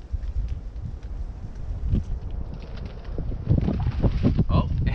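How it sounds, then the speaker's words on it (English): Gusty wind buffets a tent outdoors, a steady rough rumble that strengthens toward the end, with fabric flapping and rustling close to the microphone. "the wind is starting to blow and my tent wants to escape me"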